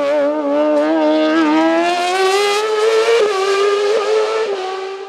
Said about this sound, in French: vainqueur de la classe CM, Jérôme Jacquot, dans un style toujours aussi spectaculaire sur son Speedcar GTR.